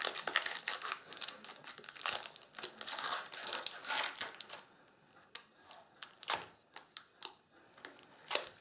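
A Magic the Gathering Lord of the Rings draft booster pack is torn open, its foil wrapper crinkling loudly and steadily up close for about four seconds, followed by sparse, sharp crackles and snaps as it is pulled apart.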